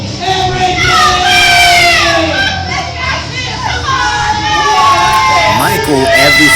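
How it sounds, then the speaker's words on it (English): A wrestling arena crowd at the Underground reacts to a Pittsburgh wrestler with a loud, continuous roar of shouting, cheering and rising whistles and calls that swell and fall throughout. "as you can hear, there is a mixed reaction from the crowd here at the Underground"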